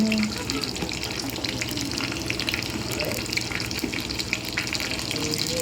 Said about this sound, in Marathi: आता मोहरीचा तडका.